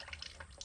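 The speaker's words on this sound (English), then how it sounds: "Catch pan's leaking." Oil dripping from a leaking catch pan during a service on a Caterpillar 301.5CR mini excavator, a few faint, quick drips in close succession.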